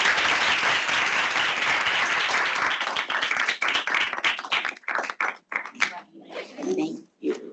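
A lecture audience applauds as the recipient of the John P. McGovern Award is welcomed to the podium. Dense, loud clapping fades into scattered claps while voices begin talking.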